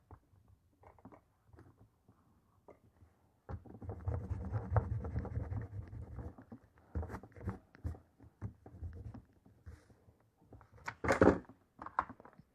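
A homemade eraser rubs pencil marks off paper in a close, soft, scratchy scrubbing burst of rapid back-and-forth strokes, followed by lighter intermittent rubs and taps in an otherwise quiet setting.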